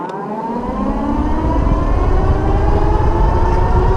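An Ariel Rider X Class 52V e-bike accelerates on throttle alone with no pedaling, giving a rising electric motor whine over steady road and wind rumble that builds loudly and continuously.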